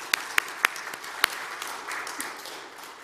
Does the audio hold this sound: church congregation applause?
yes